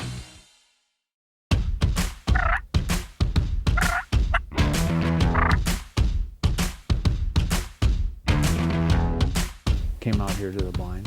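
Wild turkeys gobble repeatedly from a ridgeline during a hunt, a run of loud, close, rattling gobbles and knocking calls in quick succession after a brief quiet start.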